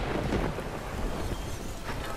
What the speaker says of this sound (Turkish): Yağmur başlatalım.